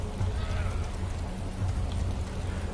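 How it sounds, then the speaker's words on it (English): Heavy rain in the video game DayZ pours steadily in a dense hiss with a low rumbling undertone, continuous and fairly close throughout. "It's raining really heavy now."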